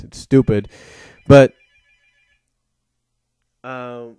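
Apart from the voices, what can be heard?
telephone ringing in the background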